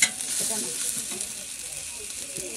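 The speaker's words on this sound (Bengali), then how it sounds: "এই যে ধনে পাতা কুচি কুচি করে এখন ভেজে দিচ্ছি" Finely chopped coriander leaves fry in hot oil with a constant, close, crackling sizzle and faint stirring.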